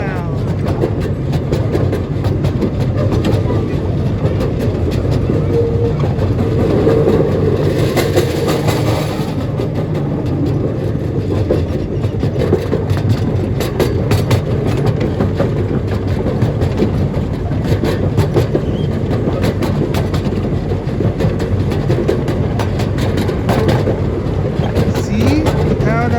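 Paradise and Pacific Railroad train number 209 runs at McCormick-Stillman Railroad Park, ridden from onboard: a continuous close rumble with faint rhythmic clatter of wheels, voices murmuring underneath.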